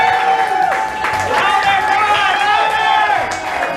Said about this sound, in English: if you didn't make a lot of noise there for Blaine, you were holding back a little for Dylan